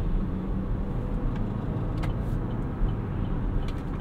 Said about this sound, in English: So we're going to get on the ramp here and see what kind of acceleration it has